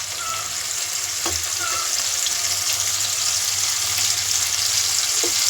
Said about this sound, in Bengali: পেঁয়াজটা আগে থেকে কেটে রেখেছিলাম, সেটাই অল্প পরিমাণ তেল দিয়ে ভেজে নিচ্ছি